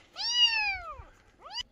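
A rescued kitten, saved from rain, gives a clear close meow that falls in pitch, followed after a short pause by a second, shorter rising cry.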